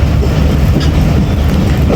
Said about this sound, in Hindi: लाला मूसा जंक्शन अप्रोच बना रही है हमारी 13 अप अवाम एक्सप्रेस